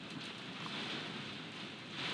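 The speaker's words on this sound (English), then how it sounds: "that noise is the rain hitting the window" Rain pattering steadily against a window during stormy weather, a continuous soft hiss with no clear individual drops, fairly faint and even throughout.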